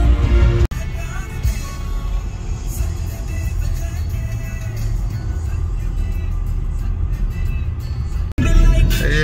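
Dense road traffic rumbles steadily around a jeep convoy during an Independence Day rally in Rajasthan, a continuous loud wash of engines and tyres with brief cut-outs near the start and end.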